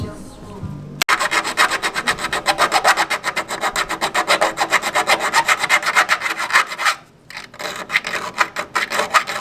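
A small opening is cut for a brake line bulkhead during a brake line tuck on a car, heard as a loud, close, continuous rasping saw stroke after a sharp start, with a brief pause near the end before the cutting resumes.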